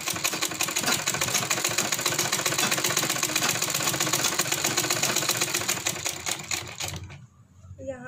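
Sewing machine running a line of stitching along a piping neckline, a rapid steady clatter that stops abruptly near the end, close up, with no voices over it.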